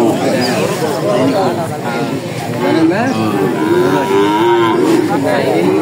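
Cattle and bulls moo repeatedly at a crowded village livestock market held before Qurbani, the long drawn-out lowing calls coming close and loud one after another over a steady murmur of voices talking.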